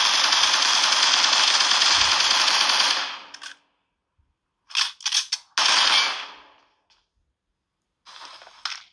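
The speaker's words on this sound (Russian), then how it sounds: "Стреляют где-то." Bursts of game gunfire, a long sustained volley followed by short sharp bursts separated by silences, loud and close.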